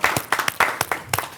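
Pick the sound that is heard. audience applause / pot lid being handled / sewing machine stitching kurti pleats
audience applause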